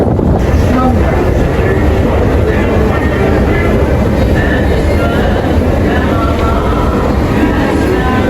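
A metro train rolls on its rails in a loud, constant rumble and roar heard from inside the carriage, unbroken throughout with no voices.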